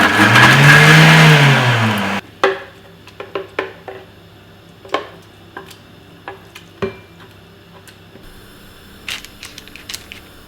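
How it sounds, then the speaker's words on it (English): A kitchen blender blitzing gherkins for a BBQ burger sauce roars loudly for about two seconds with a whirring motor pitch, then cuts off, leaving scattered light clicks and taps. "Add 2 gherkins, add to your blender and just blitz."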